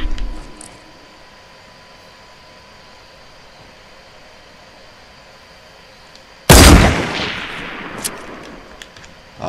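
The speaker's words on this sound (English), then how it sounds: "I'm just shooting at a really awkward angle." A single loud, sudden blast of gunfire in Fortnite Battle Royale breaks a long stretch of low game ambience, then rings out and decays over a couple of seconds.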